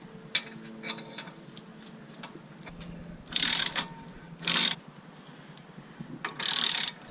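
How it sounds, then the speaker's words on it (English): A socket-shaped thread chaser is turned onto a car wheel stud with a socket wrench. It gives several short, harsh ratcheting bursts close by, separated by pauses, over faint clicks and handling noise. "I'm gonna screw this thing on. It's shaped like a socket, so you can use like a huge socket to thread it on"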